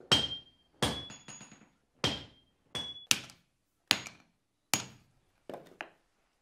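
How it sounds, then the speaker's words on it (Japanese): Swordsmith's small hammer and apprentice's heavy sledge striking hot katana steel on an anvil in a Gassan-school forge: sharp, ringing metallic blows at an irregular steady pace, each decaying quickly, close and loud. "刀匠が打つ小槌の音に合わせ、弟子が大槌を打ち込む。"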